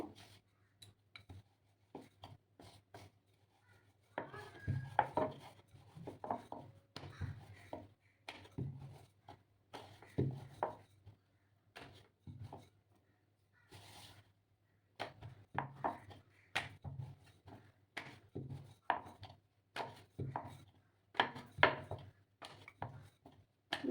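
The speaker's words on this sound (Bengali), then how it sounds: "আমি এগুলোকে বেলে নেবো একটা করে রুটি বানিয়ে নিলাম" Paratha dough being rolled out with a rolling pin, giving a series of soft, close knocks and thuds on a board in irregular bursts, with brief pauses between them and no talking.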